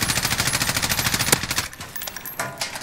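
Rapid automatic gunfire rattles loudly in steady bursts for over a second in a shooting video game, then gives way to a few scattered, sharper shots against quieter background noise.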